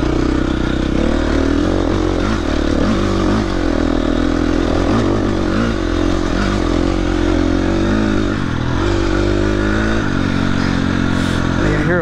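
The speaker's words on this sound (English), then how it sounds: "I can hear a bike behind me." During an AMRA motocross race, a dirt bike's engine snarls loud and close throughout, revving up and down with shifting pitch while another bike rides behind.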